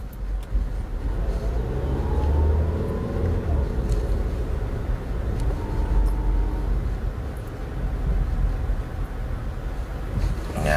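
The steady low rumble of a Toyota Avanza fitted with upgraded Monroe OES shock absorbers, heard from inside as it drives along a road, with continuous road and wind noise throughout and no clear talk.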